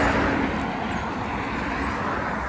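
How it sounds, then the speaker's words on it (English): Road traffic going by, a continuous broad rumble and whoosh of passing vehicles heard steadily from the roadside, with no one talking. "this road that I'm on, where you can hear all the traffic go by"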